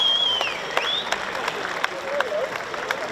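At a rugby match post-match presentation between Queensland Reds and Saitama Panasonic Wild Knights, the stadium crowd claps and cheers, with scattered sharper claps and whistles over a busy murmur.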